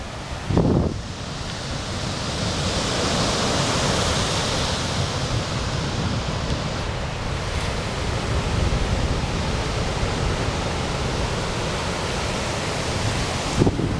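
Ocean surf at Praia da Fragosa beach in Aver-o-Mar, Póvoa de Varzim, around sunset: a steady, unbroken roar of breaking waves fills the whole stretch, with no voices.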